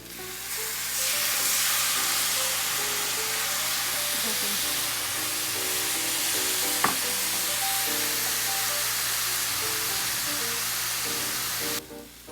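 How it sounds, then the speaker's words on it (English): Brussels sprouts with garlic sizzle steadily in a pan, a constant close frying hiss that runs alone, with only faint background tones and a brief clink midway. "once the Brussels sprouts start to get golden, you want to put a little bit of lemon juice"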